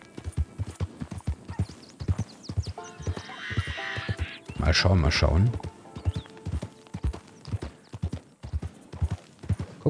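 Horse hooves clip-clop steadily in Red Dead Redemption 2, a near, rhythmic trot running under ongoing talk, with a louder burst of game sound midway.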